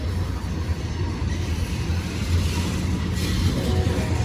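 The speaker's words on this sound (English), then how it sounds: "This is a heavy train." A heavily loaded grain train with flat-spotted wheels rolls past, a steady loud rumble of railcars with a low droning tone and occasional rattling, no talk.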